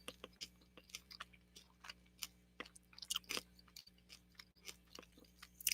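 Someone chews crunchy food close to the microphone, with a series of sharp irregular crunches and bites over a low steady background hum.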